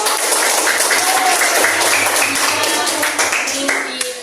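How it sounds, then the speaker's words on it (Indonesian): Students in a classroom clap their hands in a brisk burst of applause, close and fairly loud, with voices chattering over it. "tepuk tangan dulu dong"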